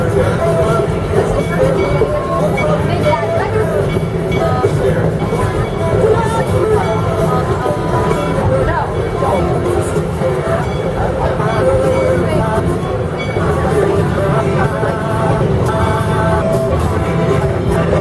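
The train ride at Kings Island amusement park rumbles and clatters steadily along the track while riders chatter and voices carry over a continuous, fairly loud mechanical drone.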